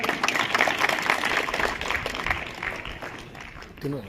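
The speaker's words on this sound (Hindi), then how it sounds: "एक बार जोरदार ताली के साथ स्वागत करते हैं इनका।" Audience at a business opening ceremony in Fatehpur Shekhawati giving loud welcoming applause, a dense, steady wash of clapping that slowly fades, with a voice talking briefly at the close.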